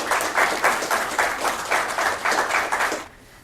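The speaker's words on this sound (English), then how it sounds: "The clapping there for 7 kids who have intellectual and developmental disabilities." Audience applause at a graduation ceremony for students finishing a program, steady dense clapping with rhythmic swells for about three seconds, then fading abruptly to quiet.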